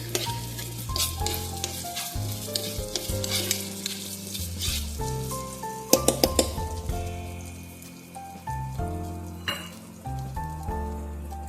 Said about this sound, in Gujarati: તેલ ગરમ થઈ જાય એટલે એની અંદર હું એક ચમચી જેટલી આદુ અને લસણની પેસ્ટ છે એ એડ કરીશ અને એકદમ સરસ પહેલાં સાતડી લઈશ